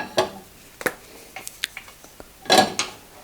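A pan handled on a kitchen stovetop before olive oil goes in, giving a few sharp metallic clinks and clatters, close and fairly loud, with quiet gaps between them.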